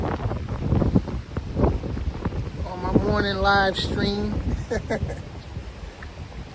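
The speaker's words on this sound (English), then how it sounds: "it's windy as hell out here" Wind buffets the microphone in gusty low rumbles while someone talks, with a brief voiced tone and some outdoor noise.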